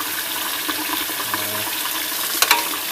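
Hot tap water runs steadily in a sink while an old Nintendo NES console is scrubbed clean, a continuous close wash with a couple of sharper splashes near the end.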